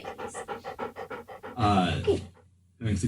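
A dog pants in a fast, even string of short breaths, then a voice speaks briefly over the panting and the breathing returns at the end.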